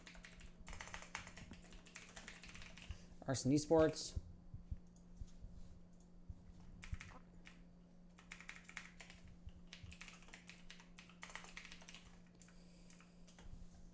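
Computer keyboard typing heard as a short burst of clicks near the start during an esports League of Legends stream, with broadcast talk and background noise around it.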